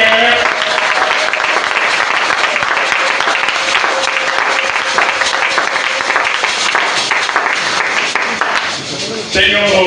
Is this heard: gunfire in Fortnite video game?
no